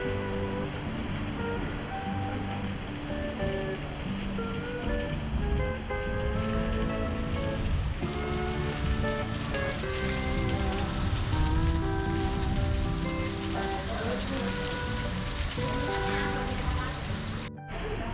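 Heavy rainstorm in Brazil, steady dense rain drumming on surfaces with a watery rush, loud and continuous throughout, close by, with no voices clearly standing out.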